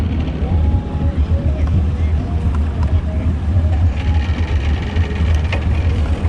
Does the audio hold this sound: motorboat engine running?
yes